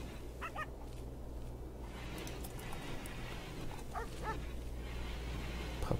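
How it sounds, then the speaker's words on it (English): Puppies in the video game RimWorld give several short, high yips and whimpers in small clusters, faint over a steady low hum of game background noise. "Puppies."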